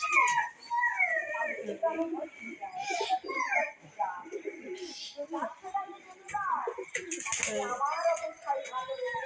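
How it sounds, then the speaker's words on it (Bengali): A red pigeon coos and calls repeatedly near a water dish, with soft warbling, throaty notes close by. A voice can be heard talking among the calls. "লাল জিরাটা বেরিয়ে ডাকাডাকি শুরু করে দিয়েছে"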